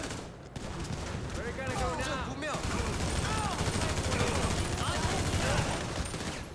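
Dense bursts of rapid gunfire in Grand Theft Auto V crackle continuously, mixed with the game soundtrack and chirpy effects, with a voice talking over it.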